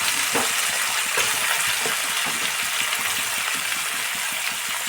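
Flat beans and eggplant frying in a pan with salt and turmeric, a loud steady sizzle broken by repeated clinks and scrapes of a spatulastirring against the pan.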